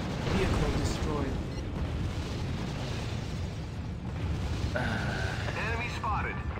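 A vehicle explosion in the real-time strategy game Act of War: Direct Action, with dense rumbling blasts and bursts filling the clip alongside battle noise, while a voice speaks briefly partway through.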